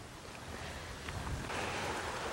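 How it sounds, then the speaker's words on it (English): A small creek runs past an abandoned hydro road near St. Thomas, Ontario, giving a steady broadband wash of flowing water with some wind noise, continuous and moderately faint throughout. "So we got a bit of a creek flowing through here."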